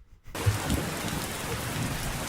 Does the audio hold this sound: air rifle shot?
no